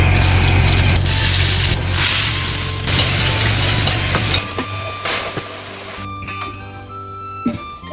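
Shredded potatoes are stir-fried in a wok in a busy home kitchen, giving a rushing hiss and sizzle mixed with a range-hood drone that fades and thins toward the end.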